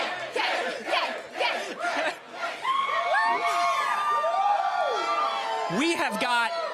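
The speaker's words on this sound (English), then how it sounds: "What is it like to see this crowd yelling your name?" Red carpet crowd at a Marvel Ant-Man and the Wasp: Quantumania premiere yelling and cheering for Jonathan Majors, a loud dense mass of shouts and whoops with rising and falling chant-like calls.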